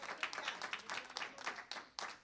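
Church congregation applauding, a faint, distant patter of many hands clapping in uneven bursts.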